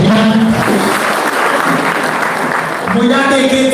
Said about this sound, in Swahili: Makofi maũcũkia.